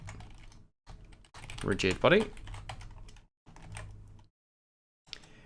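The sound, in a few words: typing on a computer keyboard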